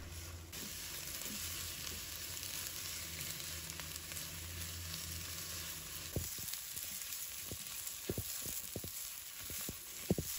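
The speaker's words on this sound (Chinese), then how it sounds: "最好是用这个半煎半炒的方法，这一步大概需要2分钟左右的时间" King oyster mushrooms sizzle in a wok, half pan-fried and half stir-fried, under a constant close hiss, with a series of sharp spatula knocks and stirring clatters in the latter half.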